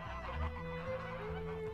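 Geese on a rural Romanian farm honk and cackle in a short, busy flurry, several birds calling close together at moderate loudness.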